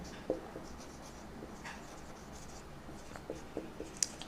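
Marker or chalk strokes on a classroom board, several short scratchy taps and squeaks spread over a few seconds, faint and close in a quiet room with no talking.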